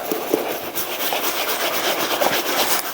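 Wet fabric golf shoes, soaked with cleaner, are scrubbed briskly up close, giving a steady, rasping back-and-forth rubbing sound with occasional sharper strokes.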